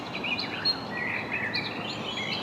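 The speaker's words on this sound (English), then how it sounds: "Just listening to the birds tweeting." Faint birds chirp and tweet in the distance over a steady outdoor hiss, with short high calls scattered throughout, at a women's golf tournament in Switzerland.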